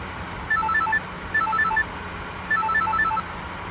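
A telephone rings in three short bursts of rapid electronic trilling, each about half a second long, separated by pauses, clear and close over a quiet room hum.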